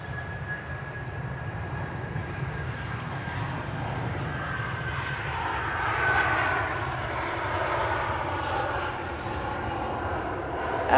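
A passenger jet departs Manchester Airport with a broad, steady roar of engines at a distance that slowly swells and shifts over the whole stretch, while people talk faintly nearby.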